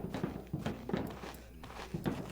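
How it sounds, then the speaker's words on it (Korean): Footsteps in a Korean horror video game about guard duty, a run of soft thudding steps repeating at an uneven pace over a low rumbling background. "발소리 발소리"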